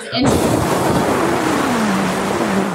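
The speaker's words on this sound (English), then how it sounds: "I found wind over here" A loud, steady rushing wind sound effect with a low whistling tone that slowly falls in pitch, played on a radio podcast without any talking.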